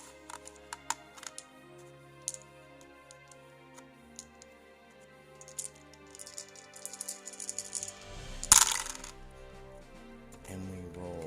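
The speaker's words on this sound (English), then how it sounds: "So I'm going to roll our 6 dice" Six dice rolled for an attack in a 3D dungeon tabletop game: a short, sharp clattering burst late on, after scattered light clicks, all over quiet background music.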